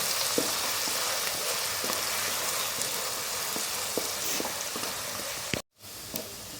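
Onions crackle and sizzle in hot oil with a steady, dense frying hiss, interrupted by a brief silent gap near the end.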